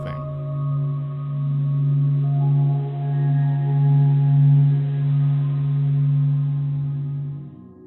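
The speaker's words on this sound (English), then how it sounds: "The sounds you heard in this piece were sonified by the Stanford Experimental Physics Lab." Sonified solar observatory data turns the Sun's oscillations into a sustained low droning hum with steady harmonic overtones, gently swelling and fading over several seconds before cutting off.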